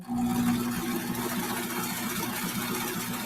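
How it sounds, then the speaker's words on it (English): A sewing machine stitches along the edge of a fabric mask, a steady close mechanical whir with a fast regular rattle that runs unbroken from start to finish. "I'm just going to stitch almost all the way across until I get to the end."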